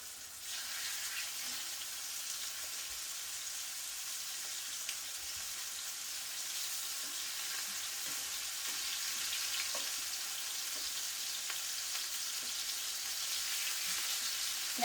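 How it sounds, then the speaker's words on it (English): Cube steaks frying in hot oil in pans, a steady close sizzle with faint crackles throughout and no talk. "And when you put it in, it should sizzle."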